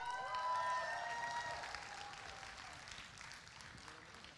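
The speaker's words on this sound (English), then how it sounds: "And please, I would like to hear more applause for Mr. Michael in here." A crowd at a youth summit claps in a faint, distant round of applause, with a brief tonal whistle-like sound early on, tapering off quietly.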